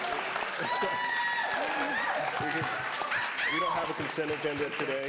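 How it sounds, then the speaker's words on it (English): Scattered applause at a regular public meeting, modest clapping from a small audience heard under a speaker who keeps talking over it. "Go ahead and clap."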